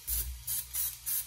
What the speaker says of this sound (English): I will throw some spray on this